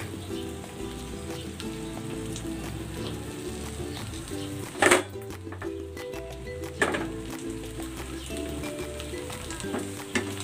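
Egg mixture sizzles steadily in hot cooking oil in a pan, a continuous close frying crackle with a couple of brief louder clatters partway through.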